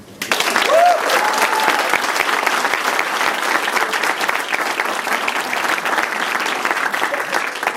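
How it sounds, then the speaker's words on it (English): A business school class gives sustained applause at the end of its final session, steady close clapping from many hands running throughout, with a brief voice or whistle early on. "Let's give a round of applause to Duncan."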